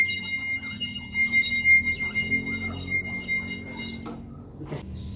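A glass three-quarters full of water, struck and left ringing: faint sustained high clear tones with soft low hum beneath, fading out near the end after a brief tap.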